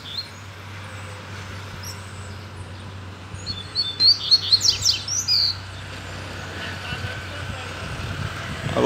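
A coleiro (double-collared seedeater) sings a quick burst of high, twittering chirps near the middle. Behind it runs a low, steady rumble of a truck or engine.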